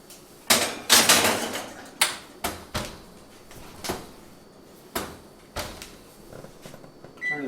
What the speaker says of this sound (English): So we're going to throw it in the oven.